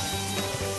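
Home-style stir-frying of pork slices with crunchy cucumber-type gourd in a wok, a steady close sizzle with faint scraping of the spatula throughout, no talk.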